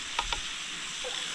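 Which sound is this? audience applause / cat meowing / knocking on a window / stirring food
stirring food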